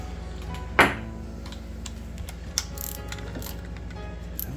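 A hand ratchet tightens a bolt while a thermostat is replaced on a 1993 S10 Blazer. Close metallic clicks and clunks are heard, with one sharp bang early on, over a low steady hum.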